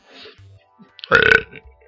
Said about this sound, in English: I think I'm about to burp.